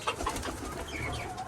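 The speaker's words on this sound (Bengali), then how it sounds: "কবুতরগুলো সব বাইরে গেছে।" Pigeons on a sunny rooftop loft give soft low coos close by, alongside a steady outdoor wash of ambient noise, with no talking.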